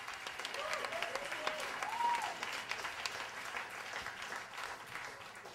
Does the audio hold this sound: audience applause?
yes